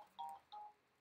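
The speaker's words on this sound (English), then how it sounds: "That was my phone." A mobile phone gives two short electronic tone bursts in a quiet room, each a clear bright chime lasting about a fifth of a second, spaced apart with a brief gap between them.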